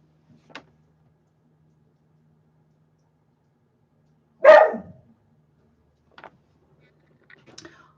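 A dog gives a single sharp bark from a short distance in an otherwise quiet indoor space, with a few faint small sounds before and after.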